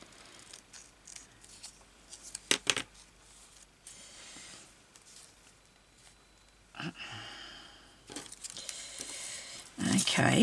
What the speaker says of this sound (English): I'm just cutting this piece of paper here